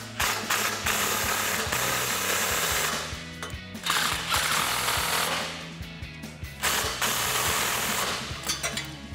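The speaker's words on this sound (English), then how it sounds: "we can take our 14mm socket to tighten those down" A ratchet with a 14mm socket tightens exhaust clamp bolts on a 4Runner cat-back system, loud and close, with rapid clicking bursts and metallic clatter broken by short pauses.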